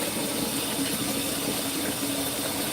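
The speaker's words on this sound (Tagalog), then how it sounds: "Okay, I will put some water." Water poured out for pet turtles on a hot day, heard as a steady, continuous splashing rush at close range with no breaks and no talk.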